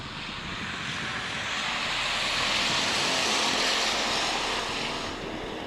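Race cars at Minneapolis Raceway roaring off after the green flag in a 2011 heat race, a dense continuous engine roar that swells louder in the middle as the field passes, then eases, with no talk.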